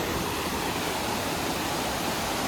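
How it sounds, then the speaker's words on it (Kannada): Water flowing steadily at a resort in Mandya, a loud, continuous broadband rush like a stream or small waterfall close by, unbroken for the whole stretch with no voices. "ನೀರು ನೋಡಿ ಎಷ್ಟು ಚೆನ್ನಾಗಿ ಹರಿತಿದೆ ಅಂತ."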